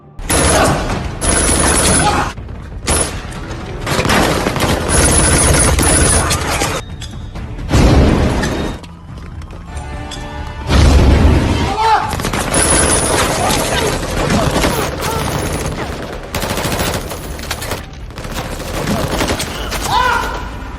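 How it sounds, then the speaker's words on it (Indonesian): Bursts of rapid gunfire crackle loudly in repeated volleys with short gaps, amid clattering and shouting, like a chaotic firefight across a factory area. "baku tembak besar pun terjadi di seluruh area pabrik"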